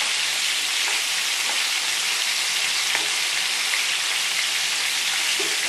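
Meatballs fry in a pan, a dense, steady, hissing sizzle at close range that stays even and unbroken throughout, with no talk.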